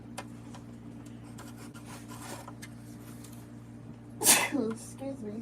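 A single sharp, loud sneeze bursts out near the end, close to the microphone, after a stretch of quiet indoor room noise with faint tapping; brief speech follows.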